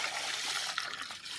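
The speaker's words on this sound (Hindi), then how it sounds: "चल पानी डाल पहले ऐसे पानी वाला सब डाल जल्दी" Water is poured into a bucket outdoors while a coconut tree is being planted, making a soft, steady splashing trickle that runs unbroken for under two seconds.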